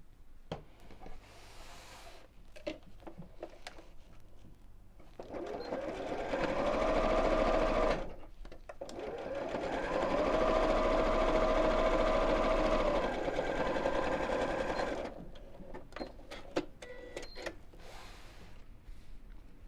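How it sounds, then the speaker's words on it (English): An electric sewing machine stitches across the bottom of a fabric wallet in two sustained whirring runs of a few seconds each, separated by pauses filled with small handling clicks and rustles. "I'm going to sew across here about 6-7 inches"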